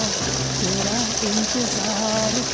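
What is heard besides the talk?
village waterfall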